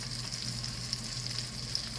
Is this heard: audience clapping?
no